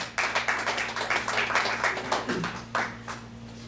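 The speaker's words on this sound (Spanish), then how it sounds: "Den un aplauso al Señor" Church congregation applauding during a Wednesday Bible study, a modest group clapping at close range with distinct individual claps and an uneven rhythm, over a steady electronic hum, for a few seconds before thinning out.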